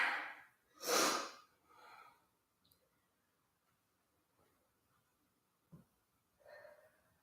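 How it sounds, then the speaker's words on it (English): Heavy, effortful breaths during a cardio, core and strength workout, a few loud gasping exhales in the first two seconds, then near quiet with a brief click and a softer breath near the end. "Ooh, I'm breathing hard."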